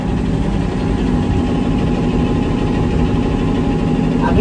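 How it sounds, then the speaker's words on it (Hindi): An electric fan that has just been switched on runs in a home, giving a loud, steady, unbroken hum and rumble throughout, with no talking heard. "पंखा चालू कर दो"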